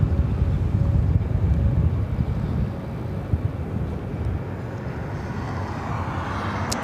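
A Singapore Airlines heavy jet landing on runway 24 right at Los Angeles International Airport gives a steady, loud low-frequency roar with wind buffeting, tapering slightly as it passes.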